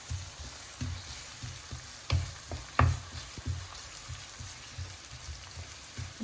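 Green chilies and garlic fry in a pan with a soft, continuous sizzle, punctuated by irregular knocks and scrapes as they are stirred, with no talking.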